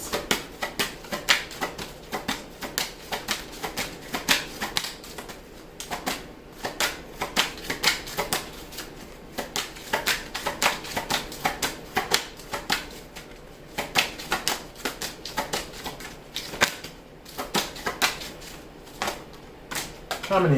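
Tarot cards being shuffled, a dense run of crisp riffling and flicking clicks close by for most of the stretch, with a few brief pauses and soft speech now and then underneath.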